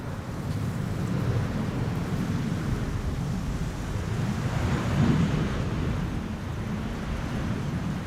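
Strong wind at Amsterdam Schiphol Airport, a constant loud rumbling buffet of gusts across the microphone with a brief surge midway and no voices.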